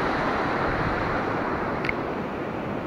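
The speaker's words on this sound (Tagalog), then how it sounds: "Ang lakas ng alon." Strong ocean surf breaking on a beach, a steady broadband wash of waves with some wind noise, continuous and fairly close, with no voices.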